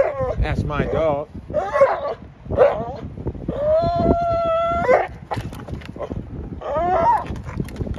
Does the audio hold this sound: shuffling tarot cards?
no